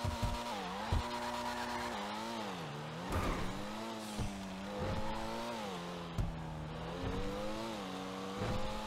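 Pfister Comet SR sports car engine in GTA Online, revving up and down through several rises and dips with a light popping rattle, steady and fairly close, no talk.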